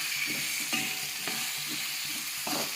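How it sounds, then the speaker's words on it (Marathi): Potatoes frying in a pan for a Kolhapuri-style soya chunk and potato curry give a steady close sizzle, with several soft scrapes as the pieces are stirred. "10 मिनिटे ह्याला तळून घेणार आहे।"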